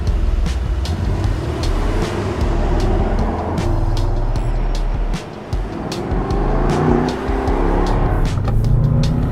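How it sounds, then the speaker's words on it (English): A 2021 Mercedes-AMG E63 S 4MATIC sedan's twin-turbo V8 drones loud and close, rising and falling with acceleration, a deep rumble under steady road noise throughout. "DJ, I am loving that signature V8 sound."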